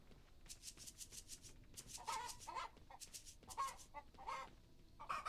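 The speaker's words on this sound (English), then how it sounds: "Chicken is being very loud." Chickens in the Coral Island farming game cluck in repeated short bursts, loud and close, with a scratchy rustle between calls and no talking.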